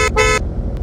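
A car horn in the game Greenville toots twice in quick succession, a brief blip then a longer honk, loud and close over a low rumble.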